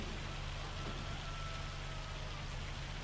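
Steady rain falls in Farming Simulator 25, a dense, even patter of drops on surfaces, continuous and moderately loud, with no voices.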